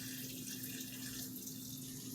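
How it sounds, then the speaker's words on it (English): Spring water pours steadily into a blender for a sea moss preparation, a continuous close splashing rush with no break. "you're going to fill this up with some spring water"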